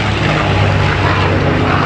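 A propeller aircraft at the Duxford Flying Legends air show, a North American-built plane, gives a steady, loud, full engine drone that holds without a break.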